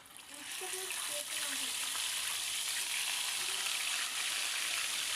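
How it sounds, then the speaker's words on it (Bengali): Rohu fish pieces fry in hot oil in a pan, giving a loud, steady, dense sizzle that holds unbroken from start to finish. "তো দিয়ে দিলাম এই দুটো মাছ এই দুটো মাছও আমি ভেজে নেব"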